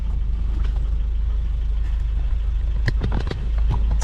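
A 1970s BMW 2002 Coupe hums along with a steady, low engine drone, while a few brief knocks and clicks surface near the end.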